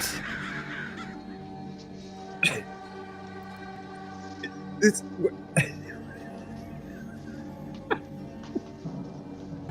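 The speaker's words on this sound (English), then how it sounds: "the crows follow me around, making a racket" Crows caw loudly in several sharp, separate bursts spread irregularly over a steady droning hum, with a voice speaking faintly in the background.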